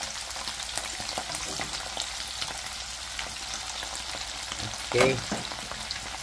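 Tawilis fish frying in hot oil, a dense steady sizzle throughout with a brief louder crackle and clatter near the end and a single short spoken word.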